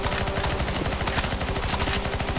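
Dense, continuous automatic gunfire from several players shooting at a boss in CS:GO Zombies, rapid overlapping shots hammering loud and close throughout with no pause.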